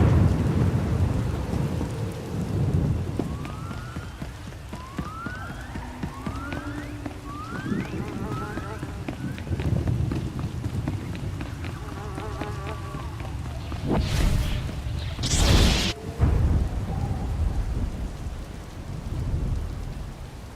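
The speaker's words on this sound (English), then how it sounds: "Hard to track them through the storm. Rain's wiped out the trail." Thunderstorm in the game Star Wars: The Old Republic, Knights of the Eternal Throne: steady heavy rain with low rolling thunder, a wailing siren-like tone midway and two loud thunder cracks near the end, with voices talking over it.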